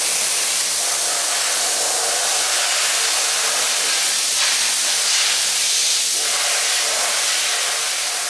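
Compressed-air blower drying a rinsed aluminium part before primer, a loud steady airy hiss running the whole time with slight surges in the middle, no voices.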